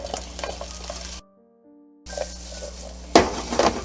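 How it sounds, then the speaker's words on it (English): Cut-up smoked sausage sizzles and crackles steadily in a hot pan, close and loud, with a short quiet gap and then a clatter of stirring against the pan. "so we're going to add our sausage that we've cut up"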